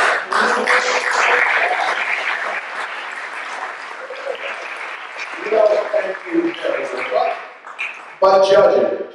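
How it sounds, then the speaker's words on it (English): Lukewarm round of applause from an audience at a panel discussion on Brooklyn's sideshow scene, a dense patter of clapping that thins and fades over several seconds before a brief renewed burst at the end. "judging from that lukewarm round of applause"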